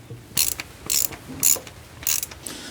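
A ratchet wrench tightening bolts under a 7.5-ton truck being converted into a camper, four short bursts of rapid clicking ratchet strokes separated by brief pauses, close and fairly loud.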